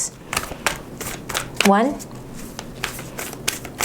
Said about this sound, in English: 8-card spread, 2 more shuffles, please.